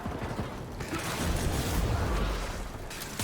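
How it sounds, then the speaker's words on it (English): Rapid Zakti gunfire in Warframe blends into a dense, rumbling barrage of shots and impacts, loud and continuous with a low booming swell near the middle. "Just gonna give a few more shots"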